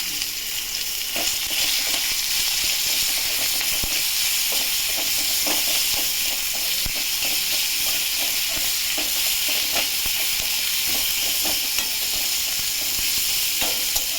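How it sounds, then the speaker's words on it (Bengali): Chopped onions sizzle and crackle steadily in hot oil, in a pan just used for frying fish; a dense, continuous frying hiss runs close and loud with occasional stirring clicks, and no voices. "এবার এই তেলের মধ্যে পেঁয়াজ দিয়ে দিলাম।"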